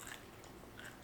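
A Paqui One Chip Challenge chip is bitten and chewed in a short, faint, close crunch, dry and brittle, with no talking.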